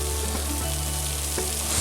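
Meat frying in a pan gives a steady, close crackling sizzle with scattered pops, heard alone.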